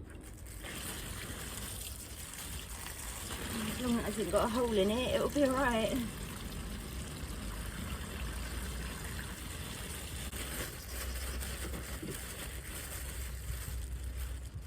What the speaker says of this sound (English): just fill the bag up with water